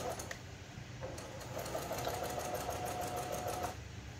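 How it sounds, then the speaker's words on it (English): A sewing machine stitches cloth steadily, its rapid mechanical stitching rhythm continuous and close, with a faint whine and a brief pause near the start. "One of the changes that I made to this sewing machine is the smoother corners."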